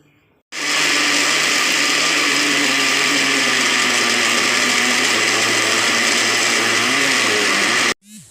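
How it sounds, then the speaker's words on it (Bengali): A mixer grinder whirs loudly and steadily for about seven seconds, grinding jackfruit seeds with salt into a paste, then cuts off abruptly. "এবারে ভালো করে ঘুরিয়ে ভালো করে পেস্ট করে নেব"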